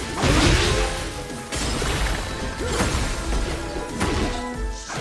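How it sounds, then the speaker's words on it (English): A glass wall shatters from a kick in the Tekken 8 fighting game, with repeated loud crashes and smashing impacts over a dense, continuous bed of game sound effects and whooshes. "Kicking someone through a glass wall never looked so much fun and felt so good."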